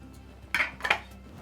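Two quick metallic clanks, close by, as a hot cake pan is set down and shifted in a kitchen, with a quiet background hum.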